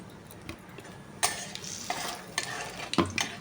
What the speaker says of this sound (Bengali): মশলাটা ভাজা হবে, মশলাটা ভাজা হয়ে গেছে